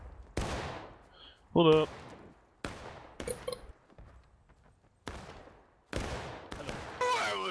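Musket volleys and single shots crack out in the War of Rights game, several loud bursts spread across the clip, with players talking and shouting between them.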